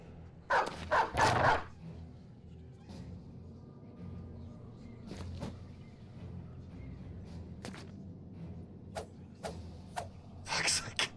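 War dogs barking in the Battle Brothers video game: a few sharp barks in separate bursts over quiet game ambience with faint mechanical creaks.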